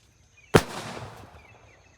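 A single firecracker bursts outdoors in the evening with one sharp, loud bang, followed by a rolling echo that fades over about a second and a half; no voices.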